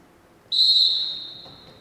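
Referee's whistle at a varsity high school wrestling match, one sharp, loud, steady blast that holds for about a second and then tails off slowly into the gym's background noise.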